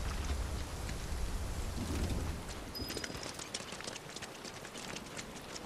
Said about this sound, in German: Und es regnet. Natürlich regnet es.